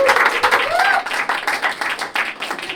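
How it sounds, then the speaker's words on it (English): Studio audience clapping during an interview show, uneven bursts of claps that rise and fall, with a voice briefly audible over the start. "Can I get a round of applause?"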